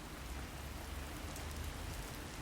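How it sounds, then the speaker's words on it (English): Steady rain falling with a strong wind, a faint, even hiss of drops on surfaces that continues without pause or voices. "There's a strong wind, and it's raining."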